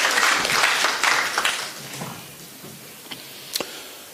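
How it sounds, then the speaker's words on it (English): Audience applause welcoming a lecturer at a spiritual gathering, a short burst of clapping that fades within two seconds, leaving a few scattered claps. "let us welcome with a round of applause His Holiness Bhakti Brhat Bhagavat Swami Maharaj"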